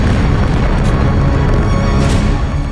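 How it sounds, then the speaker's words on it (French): Massive 400 mm artillery shells exploding on Fort Douaumont at Verdun, heard as one continuous loud, deep rumbling roar of blasts that fills the whole stretch without letting up. "Les obus de 400 mm s'écrasent sur le fort de Douaumont"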